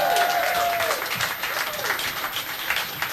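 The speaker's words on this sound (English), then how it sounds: "How about a round of applause for Owen Plant, y'all?" An audience at a live entertainment showcase applauding a performer, a burst of clapping and crowd noise that fades over a few seconds, with a voice talking at the start.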